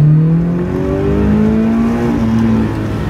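A Toyota 86 GRMN engine holds a steady high-pitched drone, its tone rising slowly and evenly as the revs climb, loud and close throughout.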